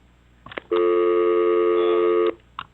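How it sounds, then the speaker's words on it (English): A telephone rings loudly for about a second and a half, a steady electronic ringing tone with sharp attack and cutoff, framed by brief clicks just before and after, with no talk over it. "the phone was ringing for so long"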